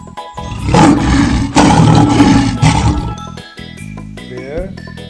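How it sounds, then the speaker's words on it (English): A lion gives a loud, close, rough roar that swells twice over about three seconds, then fades into quieter tonal background sounds. "lion"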